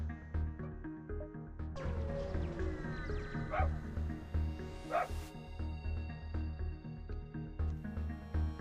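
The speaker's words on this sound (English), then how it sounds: "I have no idea why he chooses to bark at the window right behind this desk" A dog barks and yips at a window behind a desk, a few sharp barks standing out over a dense, steady background of game music, somewhat distant from the microphone.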